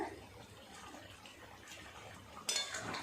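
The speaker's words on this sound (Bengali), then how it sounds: "এবার ঢাকাটা খুলে দেখবে কেমন হয়েছে" A lid is lifted off a pot of simmering chicken curry with potato and papaya, a faint metallic clink and scrape rising sharply near the end over quiet kitchen background.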